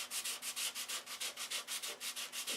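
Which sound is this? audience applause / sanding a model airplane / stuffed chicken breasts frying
sanding a model airplane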